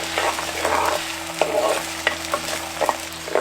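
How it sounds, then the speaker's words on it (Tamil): Chopped small onions with salt sauté in coconut oil in a pan, a soft continuous sizzle broken by rhythmic scrapes and clacks of a spoon stirring close up. "ஐம்பது கிராம் நறுக்கின சின்ன வெங்காயம் கூடவே கொஞ்சம் உப்பு சேர்த்து வதக்க ஆரம்பிச்சிருவோம்."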